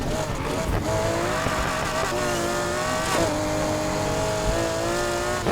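A McLaren P1 in the racing game Need for Speed Heat roars at high revs with a rising and falling engine whine and bursts of tire squeal, loud and continuous, with a voice talking faintly underneath.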